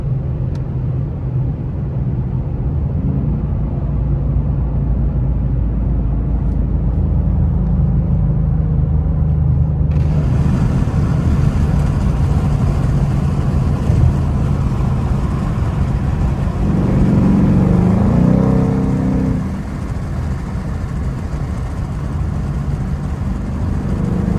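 A Ford Mustang 5.0 drives at night, heard from inside the cabin as a steady low engine rumble with road and wind noise that brightens midway and swells briefly later.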